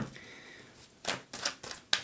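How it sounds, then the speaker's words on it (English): Tarot cards are shuffled by hand in a few quick, crisp riffling bursts with short pauses between, close and fairly quiet. "Keep shuffling."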